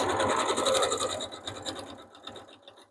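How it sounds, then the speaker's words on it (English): A sewing machine runs a backstitch with a fast rhythmic mechanical whirr and clatter close by, slowing and fading out over its final second. "make sure you backstitch at the top"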